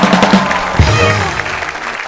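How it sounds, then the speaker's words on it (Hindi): Studio audience on a comedy talk show applauding for actress Rekha, a dense wash of clapping from a large crowd, loud and sustained, with faint voices mixed in. "जोरदार तालियां रेखा जी के लिए।"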